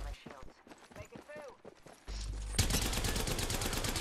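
Video game shootout gunfire breaks out after a spoken line and becomes a loud, continuous rapid rattle of shots that fills the second half.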